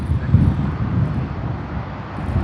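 An Etihad Airbus A350-1000 at Sydney Airport gives off a low, broad jet roar that swells and eases over a couple of seconds, heard from a distance with some wind buffeting.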